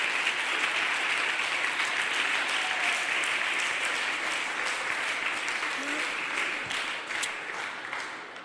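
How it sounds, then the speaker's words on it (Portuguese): A church congregation at an intercession service applauds steadily, a dense, sustained wash of clapping that holds for several seconds before tapering off slightly, with faint voices mixed underneath. "Você pode aplaudir ao Senhor"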